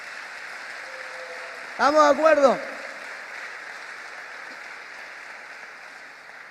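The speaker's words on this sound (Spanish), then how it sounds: "Ahí si quiere aplaudir al Señor," A congregation claps for God during an evangelical church service. The sustained, even clapping runs through the whole stretch, and a voice speaks briefly over it.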